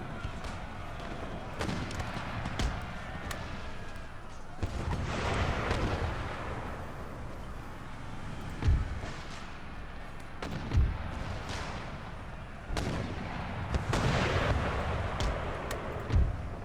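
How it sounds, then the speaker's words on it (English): Artillery volleys in a large Empire Total War battle featuring Ottoman line infantry, with repeated heavy booms and thuds rolling across a continuous roar of battlefield noise over about sixteen seconds. "Using our artillery."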